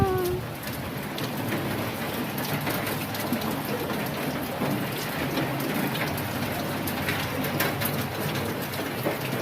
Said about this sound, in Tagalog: Umaragasa na naman ang bagyo.